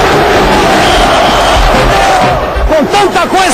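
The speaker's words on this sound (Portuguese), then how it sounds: "E a festa da torcida do Flamengo na arquibancada do Maracanã." Flamengo supporters roaring in the packed Maracanã stands after a Carioca state championship final win, a loud, continuous crowd din with chanting and whooping swelling near the end.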